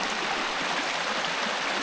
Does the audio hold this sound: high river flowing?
yes